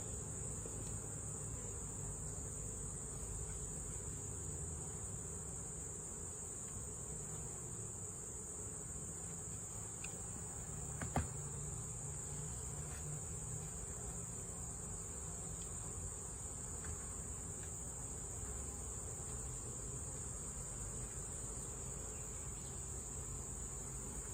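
Honeybees during a hive inspection make a soft, steady buzzing drone that carries on evenly throughout, with one faint click midway and no talking.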